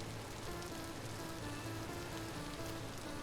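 Rain falls in the Vintage Story video game as a steady, faint hiss of drops pattering on surfaces, constant and even throughout, with no talking.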